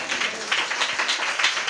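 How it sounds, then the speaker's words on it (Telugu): A congregation at a church sermon claps loudly and steadily, a dense continuous patter of many hands with slight rhythmic surges. "గట్టి చప్పట్లు కొట్టు"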